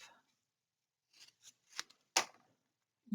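Scissors cut through card craft material for a handmade card: a few short, crisp snips close to the mic, ending in one sharp final cut, against otherwise near-silent surroundings.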